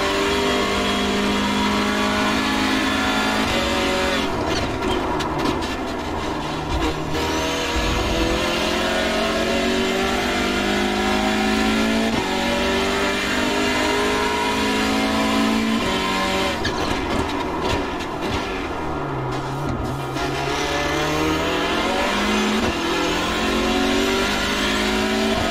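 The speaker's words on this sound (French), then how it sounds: "Beaucoup le son hein, de cette Hyundai TCR," Hyundai Veloster N TCR race car in the iRacing sim, its engine revving hard and loud throughout, climbing through gears with sharp drops at upshifts and brief lifts, close and continuous with no talk.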